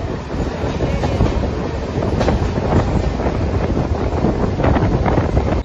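A train rumbles through Chhatrapati Shivaji Maharaj Terminus railway station in Mumbai, a loud, continuous, close roar of rolling wheels with rattling clatter and some wind buffeting over nearly six seconds.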